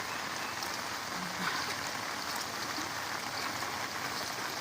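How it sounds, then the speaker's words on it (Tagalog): Steady, dense rain hisses across the whole clip, a continuous wash of water noise with no pauses, fairly distant and even in level, during knee-deep flooding in Quezon, Palawan. "ang pinakalakas na ulan"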